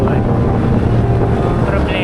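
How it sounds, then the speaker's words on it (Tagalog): Strong wind roars and buffets the microphone of a cyclist riding the Cabanatuan bypass, a dense, steady low rumble lasting throughout, with a voice faintly present underneath. "Sobrang lakas ng hangin."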